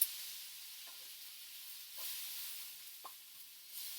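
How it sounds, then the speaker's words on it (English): Washed, cut vegetables sizzling in vegetable or canola oil in a stir-fry pan, a soft steady hiss with a few faint clinks of stirring and no talking. "Listen to that sizzle."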